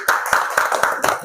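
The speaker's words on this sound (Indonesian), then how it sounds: "Tepuk tangan dulu." Applause in a classroom after a group presentation: several quick rounds of hand clapping from a small group, close and fairly loud, with some voices mixed in.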